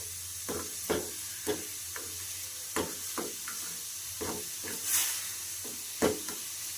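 Jaggery syrup melting in a pan while making masala corn chaat, with a soft steady sizzle and hiss under scattered light knocks and stirring scrapes of a spoon against the pan, close and fairly quiet.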